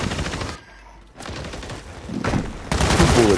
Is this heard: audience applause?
no